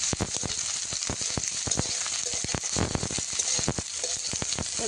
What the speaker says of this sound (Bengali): আর এখন উনানে ভাজা চলছে কড়াইতে